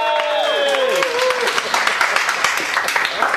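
An audience at a magic show claps loudly and wildly, a dense, steady burst of many hands; a voice speaks over the first second before the applause takes over.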